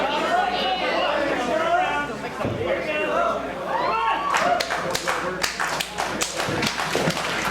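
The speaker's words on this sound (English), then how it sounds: "they can't even clap in unison" A downtown Des Moines wrestling crowd at a 3XW show claps unevenly and out of rhythm, the scattered claps growing denser toward the end under a commentator's steady talk.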